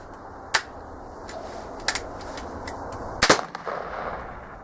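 A muzzleloader rifle loaded with Yukon Gold powder and a percussion cap fires outdoors, a few sharp, distant-sounding cracks standing out over steady wind or background hiss, the loudest near the end.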